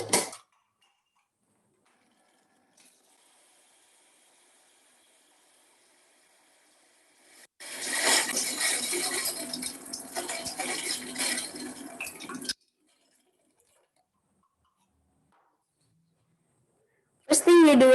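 Hot water poured over a paper coffee filter to rinse it, a steady splashing pour of about five seconds set between near-silent stretches.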